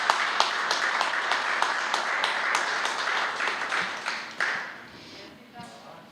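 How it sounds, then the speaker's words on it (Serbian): An audience applauds an award recipient at an amateur arts awards ceremony. The clapping is dense and sustained, then fades out over the last couple of seconds. "Molim jedan aplauz za njega."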